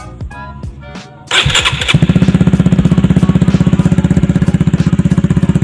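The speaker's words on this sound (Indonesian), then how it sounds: "Dan ini knalpotnya nggak pakai DB killer." A Suzuki Sonic 150R motorcycle with an underbelly exhaust and no dB killer starts up after a few clanks, then idles and revs with a loud, deep, rapid pulsing exhaust note, close by.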